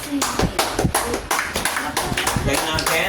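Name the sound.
congregation clapping hands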